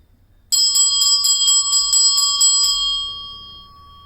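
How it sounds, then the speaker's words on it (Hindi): A sound-healing bell is struck in a rapid series of bright, ringing strikes for about two seconds, then left to sustain and slowly fade, close and clear with no talking. "आपके घर में कोई भी नेगेटिविटी से परेशान है या मानसिक तनाव में है, अवसाद में है, आप उसके सामने ये बेल आप बजाइए।"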